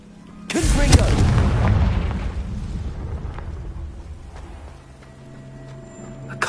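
A Confringo fire spell cast in Hogwarts Legacy lands as a loud, close boom with a sharp attack, then a long rumbling decay that thins out over several seconds, with no talk over it.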